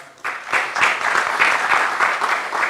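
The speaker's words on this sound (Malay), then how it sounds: "terlebih dahulu kita berikan tepukan dulu kepada panel-panel kita" An audience at a forum applauds a panel of speakers, producing steady, moderately loud clapping that fills the short stretch without talk.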